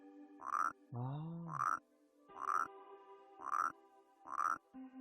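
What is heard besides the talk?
frog croaking in the video game Rusty Lake Paradise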